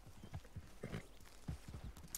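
Horse hooves clip-clopping in the Red Dead Online video game, a steady walking rhythm of soft, fairly close hoofbeats, quiet and mostly on their own.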